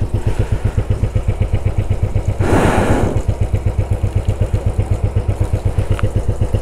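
A Royal Enfield Classic 500 motorcycle idles steadily at close range outside a hotel, its single-cylinder engine thumping in an even rapid rhythm throughout, with a brief burst of broadband noise partway through.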